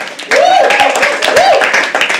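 An audience at a live poetry open mic claps steadily and loudly throughout, a dense wash of many hands close by, with a voice talking over the applause.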